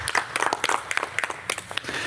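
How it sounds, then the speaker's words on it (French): Brief, scattered clapping from a small group of people applauding Mathieu's result in an informal competition, with sharp individual claps close by. "Donc je pense qu'on peut tous applaudir Mathieu."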